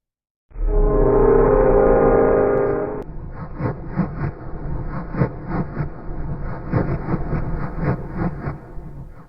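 Audio drama effect of a passenger train running from Petersburg to Moscow: a long horn blast opens, then steady rhythmic clatter of wheels over rail joints carries on alone.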